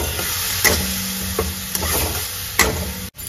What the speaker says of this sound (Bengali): 1 চামচ নুন, 8 চামচ হলুদের গুঁড়ো, 1 চামচ লঙ্কার গুঁড়ো আর সামান্য একটু চিনি দিয়ে এখন আমি মশলাটাকে ভালো করে কষে দিচ্ছি